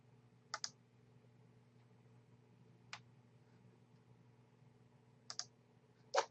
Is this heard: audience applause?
no